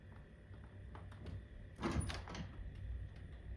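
A door in an old hotel is opened, a faint scrape and rattle rising briefly about halfway through against quiet background hiss, with no voices.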